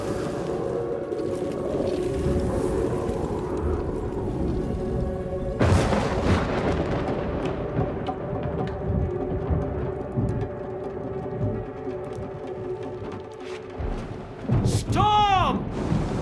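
A stormy scene in Death Stranding 2 carries rolling thunder over a low rumbling din, with a sudden loud crack midway and a deep tonal groan toward the end.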